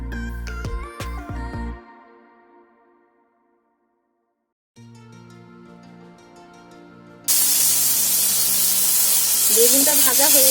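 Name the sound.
brinjal frying in oil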